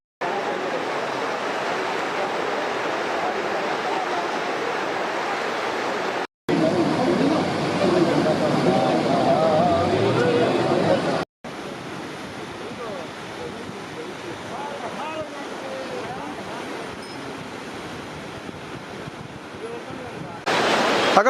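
The Alakananda and Bhagirathi rivers meet at the Devprayag confluence with a loud, constant rush of flowing water and wind noise that runs throughout, broken by a few abrupt cuts.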